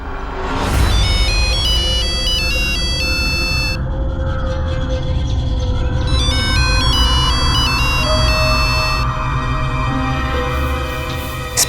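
A mobile phone ringtone plays loudly and close: a repeating melodic electronic pattern with a brief pause midway, over a steady background hum.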